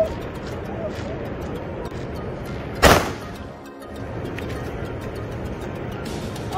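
A single sharp, loud bang of a colorful firecracker bursts out once over steady background noise and fades quickly.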